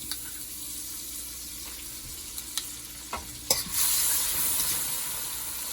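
Crushed garlic and butter sizzle in a pot, a steady close frying hiss with a few light clinks, swelling louder toward the end, with no one talking.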